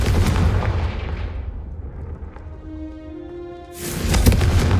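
A Confringo spell blasts candelabras in the Hogwarts Legacy video game. Two booming fiery bursts, one at the start and one near the end, are separated by a fading, ringing tail.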